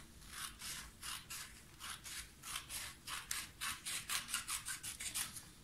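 Scissors cutting a strip from toilet paper roll cardboard: a run of about sixteen crisp rasping snips in steady rhythm, close up and alone, quickening slightly toward the end.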